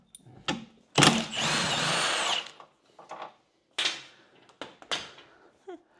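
Power tool with a socket undoing a bolt on a new Land Rover Defender spare wheel cradle, a close, loud whirring burst followed by shorter intermittent spins and clicks, with no talk.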